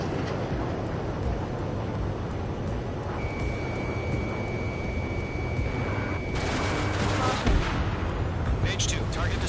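Dense, continuous rumble of gunfire and anti-aircraft fire in the Ace Combat video game, a steady wash of distant booms and rattling bursts under faint voices, growing busier toward the end.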